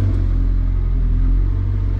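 A McLaren 720S with freshly fitted camber shims and new geometry settings pulls away on a test drive, its engine a heavy, close rumble that swells steadily under acceleration without any talking.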